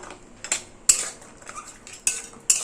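A spoon clinks sharply against a pot while jackfruit seeds are stirred into a fish roe curry, four or five distinct metallic taps spaced over quiet shuffling between them.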